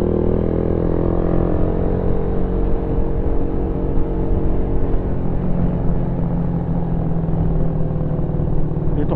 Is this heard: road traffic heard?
yes